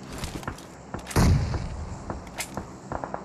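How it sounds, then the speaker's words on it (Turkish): A grenade bursts in PUBG Mobile on the Erangel map, landing as one loud, heavy boom with a rumbling tail. Smaller thumps and clicks of game sounds surround it. "Yine de bomba atayım da."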